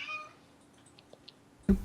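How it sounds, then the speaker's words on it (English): A house cat meows: a short tonal meow at the start, then a louder, abrupt cry at the end, near and with no talk over it. "And was that the cat? Yeah, here's the cat."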